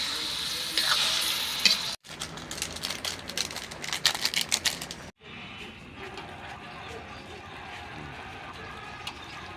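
Carrots and potatoes cook in a pan for kare-kare, with a crackling sizzle and scraping stir strokes that start loud and busy, cut out briefly, then settle into a softer, steady fry.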